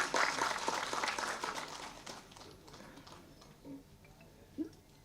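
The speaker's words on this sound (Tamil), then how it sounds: "நல்லா கைதட்டுங்களா ஒரு தடவை." Audience applause at a Tamil film press meet, a dense burst of many hands clapping that is loudest at the start and then thins out and fades over a few seconds, with a few scattered claps at the end.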